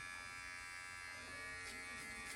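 A handheld electric precision beard trimmer hums steadily and close throughout, a continuous even buzz with no breaks and no voices.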